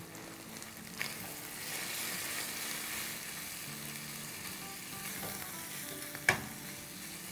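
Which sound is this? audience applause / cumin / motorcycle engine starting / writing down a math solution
cumin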